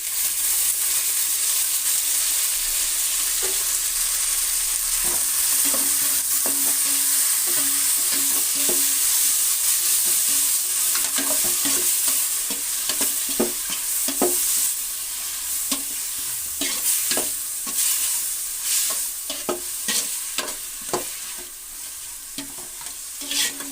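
Tomatoes fry in a pan, sizzling steadily while a spoon stirs and scrapes in quick, irregular clacks that grow busier, with no talking.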